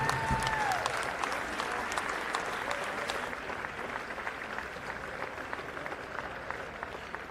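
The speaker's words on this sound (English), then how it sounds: "Let's have one more round of applause for this dedicated group" A crowd at a men's college basketball game, Illinois Wesleyan against North Park, applauds the table crew in a sustained, dense round of clapping that holds steady and slowly eases in the gym.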